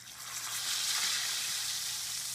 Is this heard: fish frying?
yes